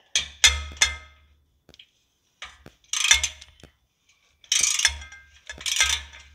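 Metal bolts being loosened with a wrench on the exhaust of a Honda Shadow Aero 750 motorcycle, heard as several short bursts of clicking, ratcheting metal separated by brief pauses, close and fairly loud with no talking.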